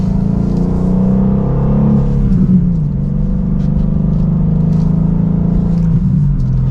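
A 2024 BMW M2 with a manual gearbox pulls hard from second gear, the engine drone climbing steadily, dipping briefly at a shift around two and a half seconds, then rising again, loud and close throughout.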